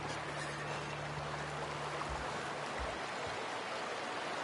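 Steady rushing water from a waterfall in the video game The Outer Worlds, a broad continuous wash of falling water with a faint low hum underneath, unbroken and without voices.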